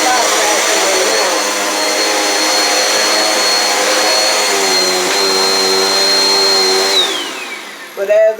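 A brand-new Dirt Devil Power Max XL vacuum cleaner runs indoors during spot vacuuming, a loud, steady whining motor drone that holds for several seconds and then winds down sharply at the end.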